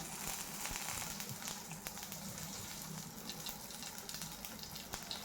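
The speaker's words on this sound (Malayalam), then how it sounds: "കടുക് പൊട്ടിയതിന് ശേഷം നമ്മൾ അതിലേക്ക് കറിവേപ്പില ആഡ് ചെയ്യുന്നുണ്ട്" Curry leaves crackle and sizzle in hot oil with popped mustard seeds and urad dal while broken-wheat upma is being made, a dense, steady frying hiss with small sharp pops and no talk.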